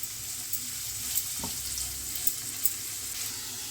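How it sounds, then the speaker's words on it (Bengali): Onion and garlic fry in a pan for a Schezwan brinjal stir fry, giving a steady close sizzle with a few brief clinks and a short knock near the middle, and no talk. "পেঁয়াজ রসুনটা আমাদের ভাজা হতে থাক"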